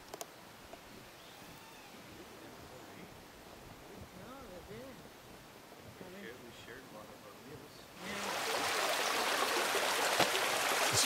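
A mountain creek flows down beside a walking trail, its steady wash of running water under distant voices, then swelling suddenly into a loud, close rush for the last few seconds.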